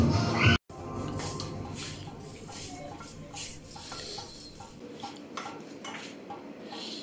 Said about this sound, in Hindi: अभी हम आलू मैं काट रहा हूँ अभी, जो अभी बॉईल करेंगे रायते में डालने के लिए